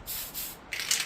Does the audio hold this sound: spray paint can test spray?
yes